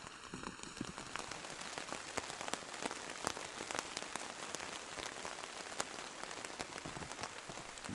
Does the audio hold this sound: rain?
yes